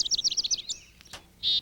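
A chickadee calls at a backyard feeder: a quick series of high, clipped chirps, a brief pause, then a single longer bright note, close and clear against quiet surroundings.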